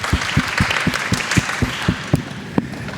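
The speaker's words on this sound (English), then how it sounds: "Everyone, give a round of applause for David." Scattered clapping from a panel-discussion audience, individual claps distinct and somewhat irregular, moderately loud with a hum of room noise underneath.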